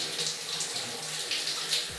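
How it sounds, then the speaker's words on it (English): A hot shower running steadily, a continuous close hiss of spraying water with faint splashes, no voices. "So I decided to take a shower right before dinner."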